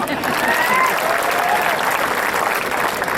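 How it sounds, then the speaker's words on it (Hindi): Loud, dense audience applause at a Hindi poetry gathering (kavi sammelan) at a university, a continuous roar of clapping with a few whistles, sustained for the whole stretch. "मेरे स्वागत में दोबारा जोरदार तालियां बजाएं"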